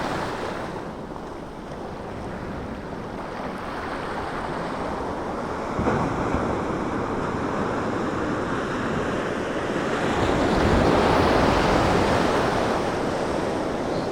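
Sea waves wash steadily in the bay at Filey on a calm morning, a continuous soft surf hiss with some wind buffeting the microphone, swelling slightly toward the end.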